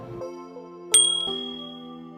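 A single bright ding rings out over a soft sustained musical chord, its high shimmer lingering and fading as the tones hold.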